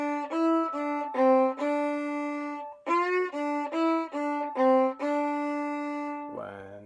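Solo fiddle plays one measure of the Highway 52 Rag twice through, bright bowed notes in a steady lilting rhythm, close and clear, ending with a short open-string sound.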